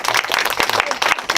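A room of people applauds for Jacob at a year-end thank-you, steady dense clapping for a second or so, close and fairly loud with no talk over it.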